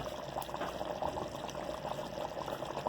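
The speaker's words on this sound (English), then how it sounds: "Now we will add that extra water" Water poured into a pot of achar gosht, a steady, continuous gush of liquid filling the cooking pot at close range with no talking over it.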